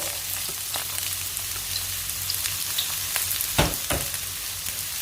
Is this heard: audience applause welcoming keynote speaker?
no